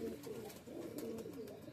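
A Giribaz tumbler pigeon gives a brief run of low, throaty coos close up, soft and steady over quiet background noise.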